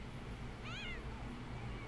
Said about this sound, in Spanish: Aquí se, se están encontrando Little Stalin, que es el gato, con Perro Sánchez.